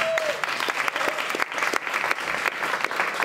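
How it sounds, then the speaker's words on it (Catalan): Dense, steady applause from an audience greeting Àngels Bassas at a Catalan presentation event, many hands clapping at once and filling the whole moment without a break. "Donem un fort aplaudiment per l'Àngels, sisplau."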